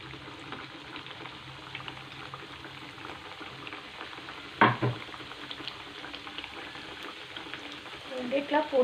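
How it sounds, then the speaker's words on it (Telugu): Sweet puris dropped into hot oil in a kadai, giving a steady low bubbling sizzle throughout, with a brief louder splash or clatter near the middle and a few small crackles toward the end. "ఇప్పుడు మనం వీటిని ఈ పూరీలని కాల్చుకుందాము. ఇట్లా కళాయిలో ఎన్ని పడితే అన్ని వేసుకోండి."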